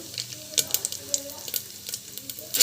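Mustard seeds, cumin and chana dal sizzle in hot oil with a crackly hiss and scattered sharp pops, close and fairly quiet, throughout a short stretch.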